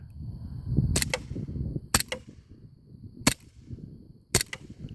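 A CO2 air gun fires four sharp semi-auto shots at uneven intervals, close and loud over a low rumbling background.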